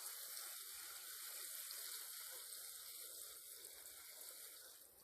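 Water poured out of a fish container at a pond's edge during stocking with tench, a steady broadband gushing pour that holds continuously, close and fairly loud, fading slightly at the end.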